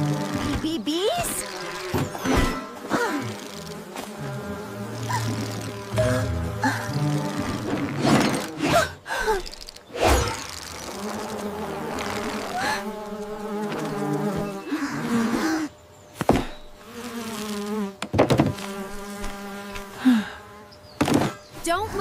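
Cartoon bees buzz loudly and persistently in a forest, with humming swells, scattered thumps and bits of voices between them.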